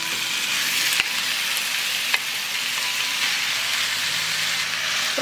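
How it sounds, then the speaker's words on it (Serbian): Chicken meat frying in hot olive oil, a steady dense sizzle and crackle throughout with a couple of faint clicks, no voices. "Ulje se zagrejalo i spuštamo meso na prženje."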